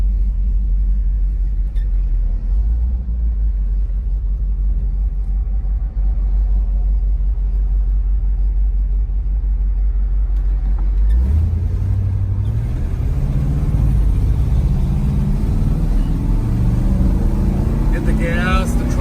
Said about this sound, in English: Hit the gas, the tri-power kicks in.